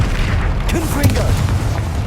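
A Confringo spell explosion in Hogwarts Legacy rumbles as a loud low boom with crackling bursts, mixed with a spoken voice partway through.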